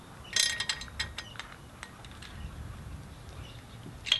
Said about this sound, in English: tighten the spark plug